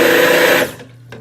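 A stick blender running at medium speed, a loud whirring motor drone that cuts off abruptly partway through and winds down, followed by a brief soft clunk.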